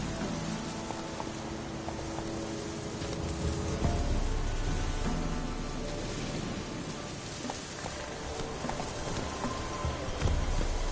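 Roach, the horse in The Witcher 3, gallops in steady pounding hoofbeats that sit close and loud, mixed with a constant wash of rain and game ambience.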